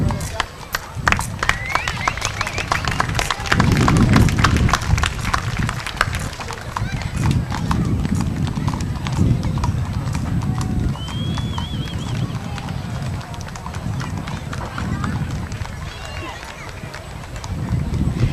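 Appaloosa horses clip-clop along a street in a Morgan Hill July 4th centennial parade, with rapid, steady hoofbeats continuing throughout under an announcer's voice and crowd noise.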